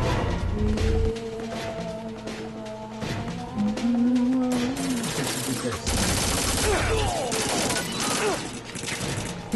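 Gunfire in Metal Gear Solid 2: Sons of Liberty rattles in bursts of game combat, layered with music and effects, while a voice talks intermittently over the action.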